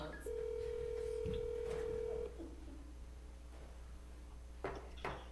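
A phone is dialed in a township board meeting room, with a steady tone holding for about two seconds, followed by a few faint clicks and beeps against a low background hum.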